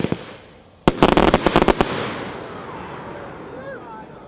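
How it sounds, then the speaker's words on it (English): Brocade Kamuro finale box firework of 125 shots: a loud, rapid cluster of sharp bursts fired in quick succession, followed by crackling, fading brocade tails under distant voices. "This is Brocade Kamuro, packed 8 125 shots."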